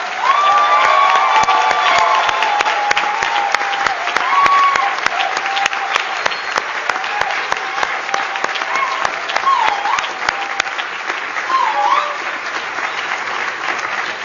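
Audience at a UWC-USA graduation ceremony applauding, a loud, sustained burst of clapping with some cheering and whoops from the crowd, continuing at a steady level throughout.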